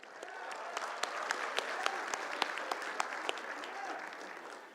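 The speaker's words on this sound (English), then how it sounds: "Let's give yourself a round of applause." Graduates at a Lambton College winter convocation in Toronto applaud steadily, a dense wash of many hands with a few sharper individual claps standing out, filling a large hall throughout.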